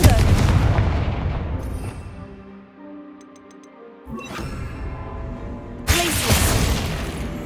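A Confringo blasting spell in the Hogwarts Legacy video game sets off a broad, booming explosive burst at the start. Tonal game music follows, then sharper blasts return near the end.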